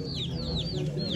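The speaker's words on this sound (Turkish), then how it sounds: "Abi bir tane Hint horoz." An Indian rooster at a poultry auction gives several short, rising clucks and squawks in a quick series over a steady low hum of the crowded sale, fairly faint.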